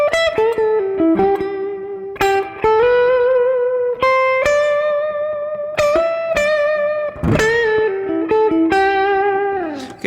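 Electric blues guitar lick built on the major scale, a continuous run of sustained, bending single notes with an airy feel, played loud and alone without talk.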